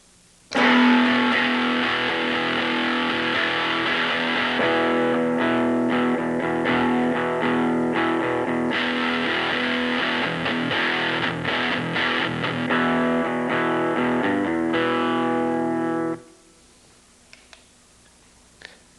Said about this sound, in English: Now the thing about the distortion pedal is it's used for like heavy metal and heavy rock